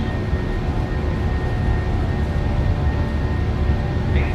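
Boeing 737-800 jet engines spooling at takeoff thrust in Microsoft Flight Simulator 2024, a steady loud broadband roar with a faint whine, constant throughout without talk.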